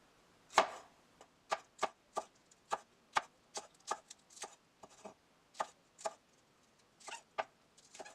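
Knife chopping through shallot on a cutting board, about fifteen crisp, separate strikes at a steady, slightly uneven pace, close and clear with no talking.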